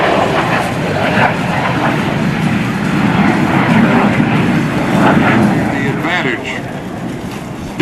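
A CF-18 Hornet jet at an airshow roars loud and continuous during a slow, low pass, while a commentator talks over the PA.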